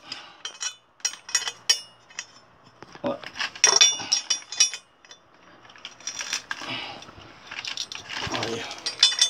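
Metal wrench clicking and rasping as it tightens a screw into a suspended shelf bracket, a series of short ratcheting clicks and scrapes, fairly close, in bursts with pauses.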